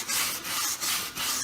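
Repeated back-and-forth scrubbing of a corroded wheel with a Scotch-Brite pad and Mothers polish, four steady rasping strokes close up with no talking.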